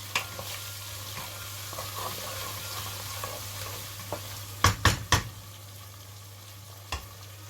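Ginger, green chilli and garlic paste frying in oil for a vegetable khima, a soft continuous sizzle with a few sharp utensil clacks against the pot midway and a quieter tap near the end.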